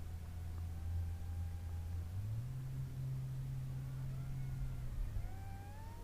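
Electric motors of a KFPLAN Z55 MQ-9 Predator 660mm RC plane hum steadily at a distance, the drone pitch stepping up and later dropping as throttle changes, with a faint airy background.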